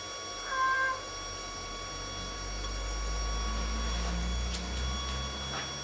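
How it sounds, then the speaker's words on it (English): Gweike G2 Pro 20W fiber laser engraving, a steady high electronic whine with faint pitched chirps over a low fan hum, continuous and close, with no talking. "loves the sound of the fiber laser song"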